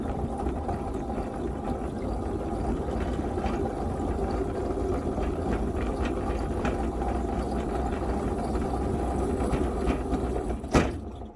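A freight locomotive hauling a wood pellet train idles in snowy weather, a steady, loud, low diesel rumble that holds constant, with a single sharp knock near the end.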